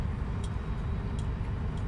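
Hazard warning lights tick inside a truck on a motorway, three faint, evenly spaced clicks over a steady low road rumble.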